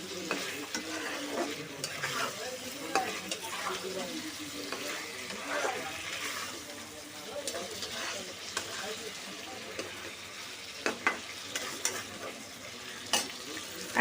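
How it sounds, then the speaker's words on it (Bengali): Boiled pointed gourd (potol) frying in hot oil in a pan, a continuous sizzle broken by scraping stirs and a few sharp knocks near the end, with faint voices in the background. "এটা আমি আসলে তেলে ভালো করে ভেজে নিতেছি"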